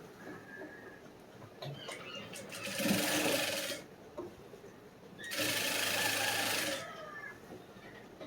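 A sewing machine stitches a lining blouse in two separate bursts of rapid whirring, each about a second or so long, with a quieter pause between them.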